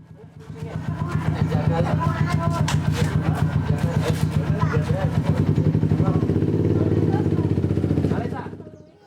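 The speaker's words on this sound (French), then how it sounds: "Mais il y a beaucoup de motos." Motorcycles pass through a residential neighbourhood in Indonesia, a loud, steady, buzzing engine drone that swells in and holds for several seconds before fading, with background voices mixed in.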